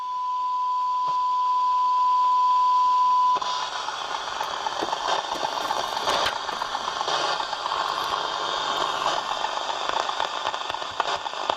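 Soundesign 2422 radio picking up a signal from a test loop held near it: a steady tone gives way to a loud, continuous band of radio noise and crackly static with small clicks, close and unbroken.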